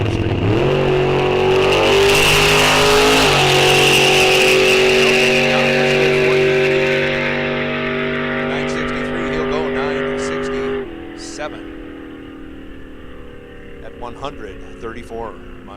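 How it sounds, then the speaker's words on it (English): A 1948 Pontiac Silver Streak makes a full drag-strip pull at a bracket-series raceway, its engine roaring loud and close and climbing through a shift before fading as the car runs off into the distance. "Mel is going to make a full pull because Mel is here to put a show on for the fans in the world's fastest 48 Pontiac Silver Streak"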